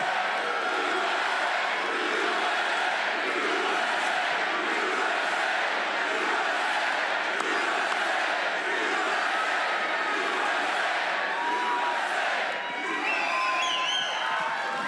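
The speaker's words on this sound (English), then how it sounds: "What a crowd." A large crowd roars and cheers continuously at a Trump campaign rally in Pennsylvania, a dense, loud wall of shouting and whoops that holds steady throughout with no break.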